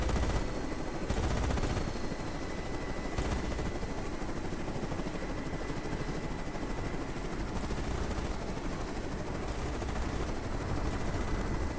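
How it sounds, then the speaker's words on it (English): Island turrets firing cannon rounds in the naval strategy game Carrier Command 2, a dense continuous barrage of rapid thumps and crackling bursts over a constant engine roar, loud and unbroken throughout. "We've got cannon fire from the island itself."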